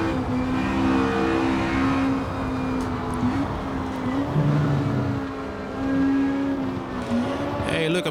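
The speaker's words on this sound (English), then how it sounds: "That's a particularly loud car." A loud 1960s sports-prototype race car engine drones steadily in a racing video game at Riverside, with tonal revving shifting over several seconds and other cars nearby.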